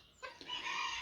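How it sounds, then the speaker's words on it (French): Bantam hens in a bonsai garden cluck and squawk in a short, close, fairly loud burst that rises after a quiet moment, with no talk over it. "qu'est-ce qui fait ce bruit? C'est mes poules naines."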